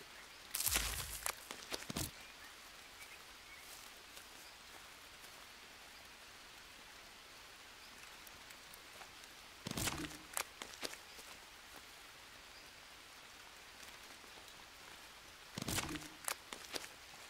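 Steady rain falls in the jungle survival video game Green Hell, a soft, continuous hiss broken by three brief louder bursts of rustling or movement.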